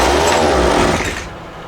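Ryobi line trimmer's small two-stroke engine, running rough on choke, gives a loud close buzzing burst that fades after about a second.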